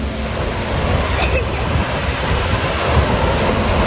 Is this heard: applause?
no